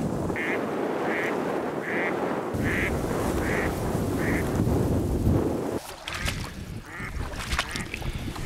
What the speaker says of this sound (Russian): Ну вот он, первый селезняка, зеленоголовый